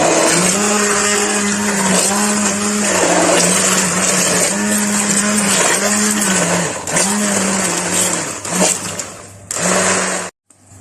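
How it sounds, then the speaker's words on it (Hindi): An electric blender blending tomatoes whirs steadily at close range, its motor pitch dipping and rising in repeated pulses as contents churn, then cuts off abruptly at the end. "अब मैं इसको ब्लेंड करती हूँ।"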